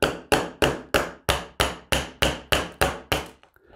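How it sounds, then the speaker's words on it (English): Hammer taps a 1/16 inch roll pin punch to drive a pin from a Beretta 84FS Cheetah pistol frame: eleven sharp, evenly spaced metallic strikes, close and loud, each ringing briefly before the next. "using a 1/16 inch roll pin punch, we're gonna remove"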